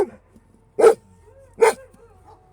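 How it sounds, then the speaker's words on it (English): A rescue dog lets out two sharp, close barks about a second apart, with soft whimpers and faint yips in the quiet around them. "It's just another dog"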